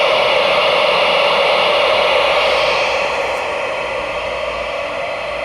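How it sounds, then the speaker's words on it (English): A Märklin Gt2 4+4 radio-controlled model locomotive's sound card gives off a steady, loud hiss that stays even throughout and eases slightly toward the end. "And there's the hiss."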